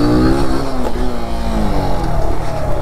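Kawasaki Z125 motorcycle engine revving loud and close on a bicycle trail, pitch climbing and falling through gears in a steady, continuous drone.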